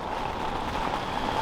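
Steady rain falling during a storm at a carp fishing lake, an even dense hiss of drops on surfaces with some wind noise and no speech.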